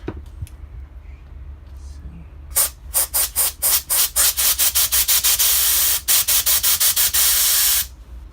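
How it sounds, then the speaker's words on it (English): Rapid bursts of aerosol brake cleaner spray hiss in quick succession onto a small washer from a Suzuki GSX400E motorcycle, then merge into a long continuous spray before stopping abruptly, loud and close. "I'm just going to clean it a bit with brake cleaner and spray it out with some high compression air"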